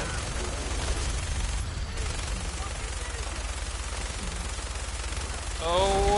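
Rapid automatic gunfire from a Fallout 4 firefight against a Deathclaw, with dense bursts of shots running continuously under a voice.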